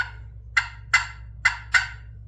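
Four sharp, raspy yelps from an aluminum friction turkey pot call, evenly spaced and close, over a faint low hum.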